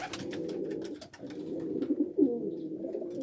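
Homing pigeons coo near a loft in dull weather, soft low throaty calls rising and falling in several phrases, close and fairly quiet, with no talk.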